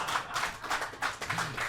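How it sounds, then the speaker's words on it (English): A live audience at a Stockholm Major esports show claps in a brief, quiet burst of rhythmic, fairly distant applause. "So you get claps every single time you shit on EG."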